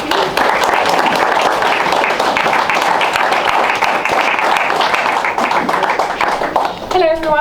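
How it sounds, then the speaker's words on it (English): A fans forum audience gives a round of applause as a football officer from North Yorkshire Police is welcomed to the floor, loud dense clapping close by, steady for several seconds before tapering off. "another round of applause"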